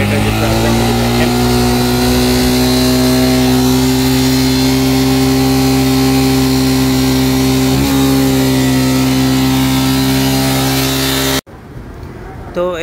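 A Suzuki Gixxer FI naked motorcycle engine with a fault runs at a steady, loud idle drone for about eleven seconds before abruptly cutting off, leaving quieter background noise.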